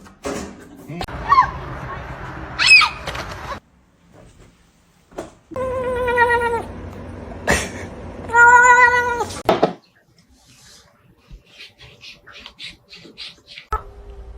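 A cat meows several times, loud and close, with harmonic cries separated by short pauses and faint rustling in between.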